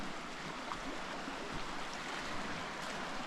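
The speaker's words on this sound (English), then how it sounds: "Lake Superior here." Waves wash steadily against the rocky, beachless shore of Lake Superior, a continuous close rush of water with no voices.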